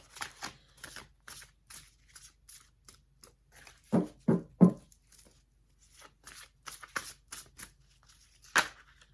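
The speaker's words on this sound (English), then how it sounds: "So let's just give these a shuffle. Let's shuffle these well." Tarot cards shuffled by hand at a reading table, a series of crisp riffling bursts and soft slaps with short pauses between, a few louder snaps in the middle, close and quiet with no talking.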